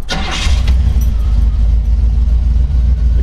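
A 1969 Jeepster Commando with a high-compression Buick 350 four-barrel V8 cranks briefly and fires, settling straight into a loud, deep, steady idle with a strong low rumble close by.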